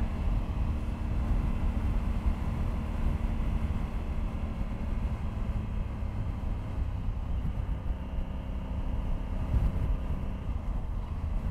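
A Honda Africa Twin adventure motorcycle pulls hard through the gears, a steady low engine drone heavily masked by roaring wind buffeting the rider's microphone throughout, with no distinct gear changes standing out.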